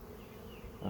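Honey bees humming at a backyard apiary near nuc boxes, a close, steady buzz that swells louder at the very end of the brief moment.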